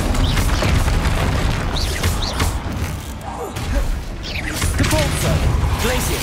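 Bombarda blasting spell explosions in a video game, loud booming blasts and crashing impacts over a dense, rumbling wash of combat noise, continuous and close with several sharp hits spread across the stretch.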